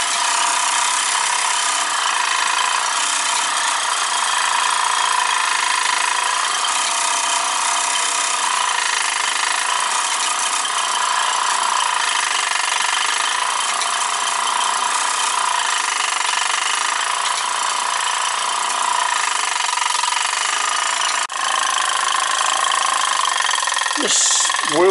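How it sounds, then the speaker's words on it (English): A 1947 Wilson oscillating model steam engine running, giving a continuous fast mechanical clatter and rattle that stays steady and close for the whole stretch, with a brief squeak near the end. "this Wilson oscillating engine is as old as I am. It was made in 1947, same year as me."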